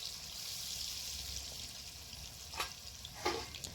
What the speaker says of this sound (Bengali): এবারে কড়ার তেল গরম হয়ে গিয়েছে। প্রথমে আমি দিয়ে দিলাম আলুগুলো, দিয়ে দিচ্ছি কিছুটা লবণ।